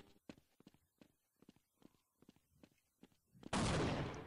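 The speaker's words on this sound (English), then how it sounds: "What is being shot at now?" Gunfire in the video game Half-Life: a string of sharp, evenly spaced shots with quiet gaps between them, ending in a sudden loud, sustained burst of noise.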